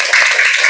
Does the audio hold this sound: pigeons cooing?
no